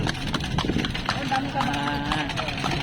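Horses clip-clop on a street in Vigan, Ilocos Sur, their steady hoofbeats running through the whole stretch amid busy street noise, with people talking over them.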